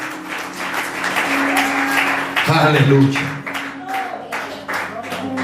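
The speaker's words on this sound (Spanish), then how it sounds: "Denle un aplauso al Rey de Gloria en esta tarde" Congregation applauding the King of Glory at an afternoon church service, a steady wash of clapping mixed with shouted praise and a sung or spoken voice over sustained music.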